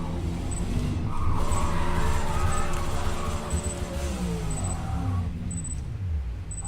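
Audi RS3 in Forza Motorsport, engine droning steadily with tyres skidding and squealing through a corner, a continuous loud run with engine pitch sweeping down toward the end.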